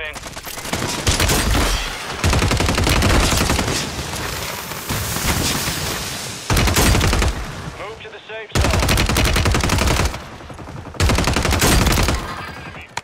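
Bursts of rapid gunfire crackle in several long volleys, loud and close, separated by brief gaps, with sharp booming shots mixed in, from the video game Call of Duty: Warzone on Rebirth Island.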